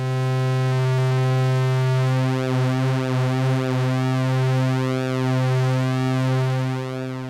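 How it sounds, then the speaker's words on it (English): Yamaha CS70M analog synthesizer holding a sine-wave tone with pulse width modulation, a steady sustained drone with slowly sweeping, swirling overtones and no talking. "So let's apply some pulse width modulation. First, let's do it with just the sine wave"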